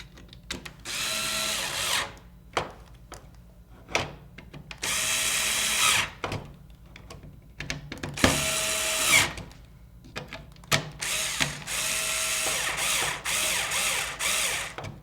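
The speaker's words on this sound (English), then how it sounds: "I'll tighten these screws." A power driver tightens screws on a plastic Nerf Raider CS-35 blaster, whirring in repeated short bursts of one to two seconds each, separated by pauses and small clicks, close and fairly loud.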